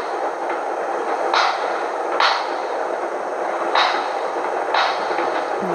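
Fireworks exploding at a distance, with four separate muffled bangs spaced a second or so apart above a steady background hiss.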